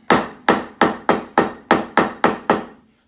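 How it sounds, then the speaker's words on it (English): A small rough rawhide mallet stamps leather for a custom chest rig, landing nine sharp, evenly spaced blows at a steady, brisk rhythm. Each strike is close and loud with a quick decay, and there is no talk. "This is just a little rough rawhide mallet,"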